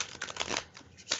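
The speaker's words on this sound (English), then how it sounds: "I'm doing noisy shuffling because I'm doing reversals tonight" A nearly 50-year-old deck of stiff tarot cards is shuffled with noisy reversals, giving a quick, close burst of riffling, papery flutters and slaps.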